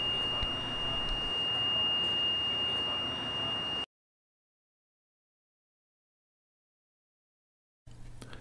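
A radiation portal monitor alarms as a cesium check source passes through: a steady, piercing electronic tone over background hiss for nearly four seconds, then silence, with a brief burst of noise at the very end.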